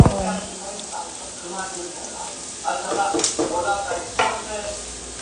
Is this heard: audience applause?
no